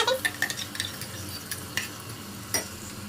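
A ground paste of onion, fenugreek and coriander is stirred into softened tomatoes in a pan for a taro curry, with soft scraping, a quiet sizzle and several sharp utensil clinks against the pan.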